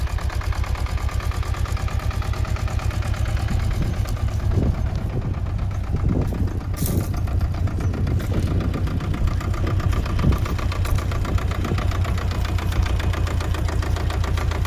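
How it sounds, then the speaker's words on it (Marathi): A tractor engine with newly fitted steering idles steadily during a driving lesson, a loud, continuous, close diesel rumble with a fast knocking pulse and no talk. "ट्रॅक्टर शिकवायला चालू आहे."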